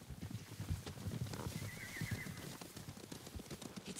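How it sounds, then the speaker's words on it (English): Horses in the Ghost of Tsushima video game approaching, with a clear whinny over irregular clip-clop hoofbeats and thuds, moderately close and continuous with no talk. "Horses, they're coming for us."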